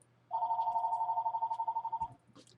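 A telephone bell rings once in a single trilling burst of about two seconds, loud and close against a faint background hum.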